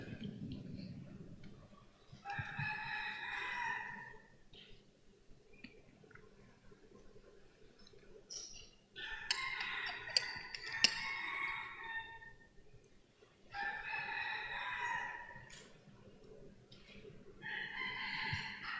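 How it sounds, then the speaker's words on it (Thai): A rooster crows repeatedly, several loud calls in a row, heard over low background noise with faint murmuring during a Buddhist sermon. "ได้ยินเสียงไก่ขัน"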